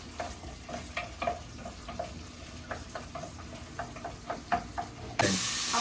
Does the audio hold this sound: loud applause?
no